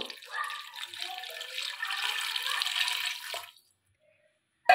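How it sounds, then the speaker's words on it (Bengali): Water pours into a pressure cooker holding potatoes for a Bengali prawn and onion-stalk chorchori, a steady splashing stream lasting about three seconds before stopping, with a brief sharp sound at the very end. "প্রেসারের মধ্যে আমি পরিমাণ মতন জল দিয়ে দেবো।"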